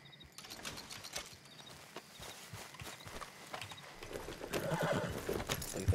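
A horse whinnies clearly over steady clip-clopping hooves in the video game Red Dead Redemption 2, close and fairly loud, with no talking.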